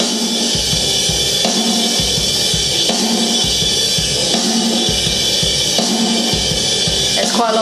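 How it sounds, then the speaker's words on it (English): A full rock drum kit plays together in a dense mix with big room reverb, its steady kick and snare hits pulsing evenly under a wash of cymbals. "So these are what the drums sound all together."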